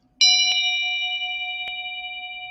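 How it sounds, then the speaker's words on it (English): A small handheld bell is struck once, giving a bright metallic ding that rings on with a long, slowly fading sustain and faint shimmer in a quiet room. "I also have my fabulous"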